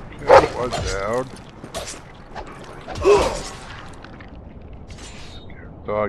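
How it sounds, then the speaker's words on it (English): Dog barks and whimpers during combat in the Game of Thrones role-playing game, Episode 3, as a fighter sends the dog to attack an armored enemy. Short loud bursts amid game mechanism sounds and creaks, with someone talking over them. "Get dog to attack this dude."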